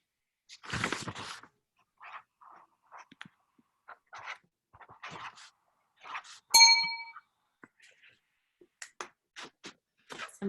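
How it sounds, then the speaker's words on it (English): A meditation bell struck once during a quiet session, a clear ringing tone with sustained harmonics that fades over about a second, surrounded by scattered soft talk and small noises. "Somebody have a bell, a meditation bell?"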